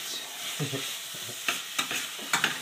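Vegetables sizzle in a pan alongside meat, a soft steady crackle broken by a few scraping stirs from a utensil, fairly quiet and close, with no talking.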